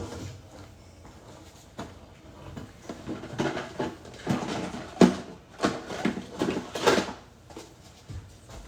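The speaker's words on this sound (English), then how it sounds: "I'm gonna put an egg in with some water and shake it" An egg is shaken with water in a small Tupperware container: a rhythmic run of sloshing knocks and rattles, building from faint to moderately loud and close by.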